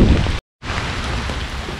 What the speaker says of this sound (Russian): Вот дождь, ливень прям.